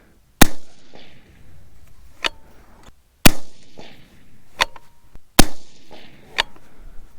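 Sharp, loud rifle reports from a 6.5 Creedmoor bolt-action firing 123-grain Sierra handloads, several spaced shots each followed by a short echoing tail, with fainter clicks and thuds between them.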